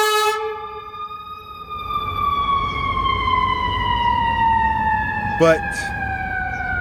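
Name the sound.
Chicago city street sounds with passing siren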